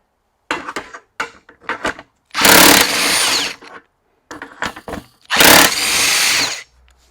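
A Makita 40V XGT 3/4 inch impact wrench runs in two loud, close hammering bursts of about a second each, preceded by short clicks and trigger blips, with brief quiet between.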